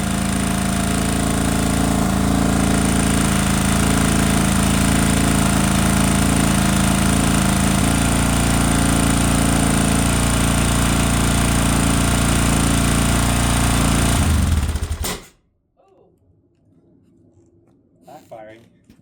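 A 1979 Honda XR500 single-cylinder motorcycle, freshly rebuilt after years in storage, idling high with a loud, steady rasping chug close by, then cut off abruptly near the end, leaving quiet.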